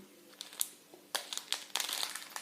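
A large plastic bag filled with rubber bands crinkling and crumpling close by, with soft scattered rustles at first, then louder bursts of crackling in the second half.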